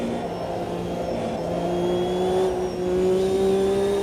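A race car engine in the Automobilista 2 sim racing game, heard from outside the car, holds a steady droning note that rises slightly in pitch as it runs on, loud and alone without talk.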